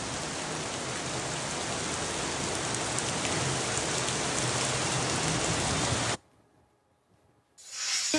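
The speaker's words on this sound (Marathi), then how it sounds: "तर आपण पाहतोय पुण्याला अवकाळी पावसानं झोडपलेला आहे।" Heavy unseasonal rain pours down in Pune, a loud, steady broadband roar of downpour that runs without pause for about six seconds, then cuts to near silence before a brief burst of sound returns at the end.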